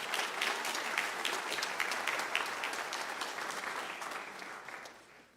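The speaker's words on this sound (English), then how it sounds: "And now we'll clap." An audience at a senior awards night claps steadily for several seconds, a dense patter of many hands that gradually fades out at the end.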